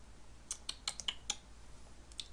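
Quick mouse clicks while playing Hero Wars, a run of sharp, close clicks in small bursts with short gaps between them, alone with no talk.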